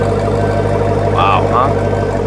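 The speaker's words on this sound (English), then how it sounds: "just take a listen to this exhaust at an idle" 2018 Jeep Grand Cherokee Trackhawk exhaust idling, a steady, loud low rumble with a deep droning hum, while a short whistling or chirping sound rises briefly midway.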